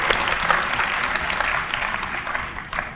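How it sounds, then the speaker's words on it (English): Steady, full applause from an audience at a nursing program pinning ceremony, honoring the nursing faculty, with a dense wash of clapping throughout. "Let's give them a round of applause."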